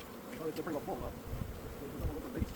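Honey bees fill a crowded, open hive box with a dense, steady buzzing drone that holds throughout, with a faint voice in the background.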